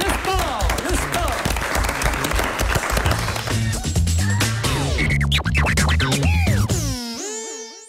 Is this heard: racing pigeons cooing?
no